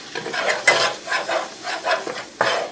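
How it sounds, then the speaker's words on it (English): Flour being stirred into melted butter in a pan for a roux, a soft scraping stir repeated in steady strokes with a light sizzle underneath, close and moderately loud with no talking. "I'm just going to stir this into this butter."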